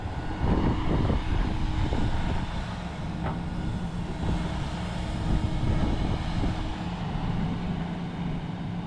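Heavy machinery from an excavator comparison test of John Deere, Hyundai, Kobelco and Volvo machines, where an excavator engine throttles down, as a loud, steady low engine drone with a few clanks, filling the scene without talk.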